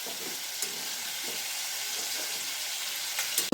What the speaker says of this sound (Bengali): দেখছো, মাছগুলো ভাজা হচ্ছে।